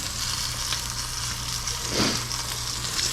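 A tomahawk steak sears in a hot pan, giving a steady, close sizzle and crackle throughout with a low hum underneath and a brief louder flare of spatter near the middle.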